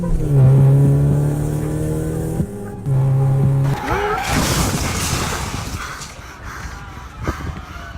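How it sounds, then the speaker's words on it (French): A car tears past at around 200 km/h and smashes into a bus stop on a street: a loud engine whine with tonal harmonics, a brief gap, another roaring pass, then a sustained crashing, scraping burst that trails off into lingering debris noise. "Thomas Sullivan, au volant de sa voiture, pulvérise à 200 km/h l'arrêt de bus rue Petit à 7h43 et meurt sur le coup"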